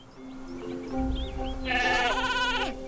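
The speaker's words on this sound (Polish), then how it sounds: "To tylko owce." Game sheep in Skylanders Spyro's Adventure bleat in a short cluster of loud, wavering cries near the end, over light game music and chirpy effects.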